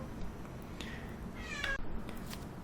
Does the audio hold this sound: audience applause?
no